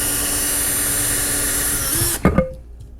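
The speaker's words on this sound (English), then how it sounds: "So I use the small drill bit here." A power drill with a small bit bores into a post, a steady high whine running close and loud, then winding down abruptly with a couple of sharp clunks as the bit stops.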